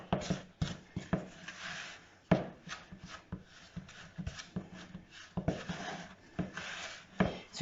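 A utensil scrapes and thumps rhythmically through a thick flour dough mixture in a bowl, stirred steadily in one direction with repeated close, soft rubbing strokes.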